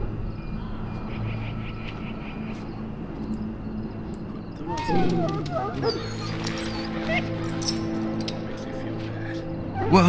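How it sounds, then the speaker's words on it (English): A dog in a video game whimpers and yips in short, thin cries over a steady game soundscape with crickets, and a louder burst of yelps and barks near the middle, mixed with talk. "Now I can treat the dog properly, poor fella."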